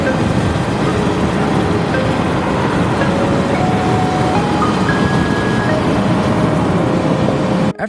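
An Amtrak-led special train on the Mumford & Sons Railroad Revival Tour rolls past on the rails, a loud, steady roar of wheels with faint squealing tones drifting through, close and unbroken until a sharp cutoff.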